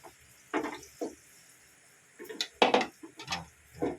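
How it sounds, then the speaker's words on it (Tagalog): A frying pan (kawali) holding omelet egg is tilted and shifted, giving a scattering of close metallic knocks, scrapes and clinks with brief gaps between them, and no talk. "Tagilid-tagilid mo lang kawali para umikot yung itlog."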